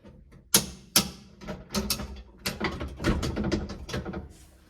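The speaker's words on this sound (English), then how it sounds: "The shifter moves right through the shift gates as it should." A Mopar floor shifter in an A, B or E body car with a center console is pushed through its gates, giving a run of sharp metallic clunks and clicks followed by rattling mechanical movement, close and fairly loud.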